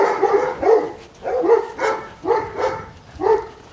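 Several dogs bark in a yard in Estonia, with five or six sharp, evenly spaced barks and yips close by, loud and agitated, with no voices over them.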